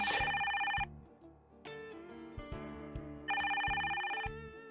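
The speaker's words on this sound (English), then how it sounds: "Oh, is that your phone?" A phone rings in the visual novel Koisuru Natsu no Last Resort, a bright electronic ringtone in two bursts set over a soft melodic music track, clear and alone.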